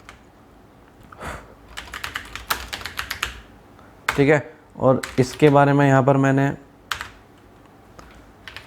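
Typing on a computer keyboard while writing headings in Microsoft Word 2019: quick bursts of close keystroke clicks in the opening seconds, followed by someone speaking in Hindi.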